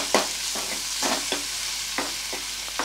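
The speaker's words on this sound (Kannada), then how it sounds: "2 ಆನಿಯನು ಸ್ವಲ್ಪ ಫ್ರೈ ಆಗಲಿ, ಚೂರು ಮೆತ್ತಗಾಗಲಿ" Chopped onions fry in a pan with a close, steady sizzle, broken by several short scrapes of stirring spread through the few seconds; no voices.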